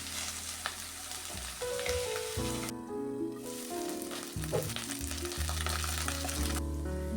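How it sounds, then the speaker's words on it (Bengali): Potato cubes fry in a generous amount of mustard oil in a pan, a steady loud sizzle running throughout with occasional stirring, no talking. "কেটে রাখা আলুর কিউবগুলো আমি ভেজে নিচ্ছি বা কষে নিচ্ছি এইভাবে ব্রাউন হয়ে যাওয়া পর্যন্ত"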